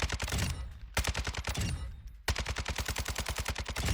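An RPK light machine gun fires in Warzone 2 in loud, rapid automatic bursts: three strings of evenly spaced shots separated by brief pauses.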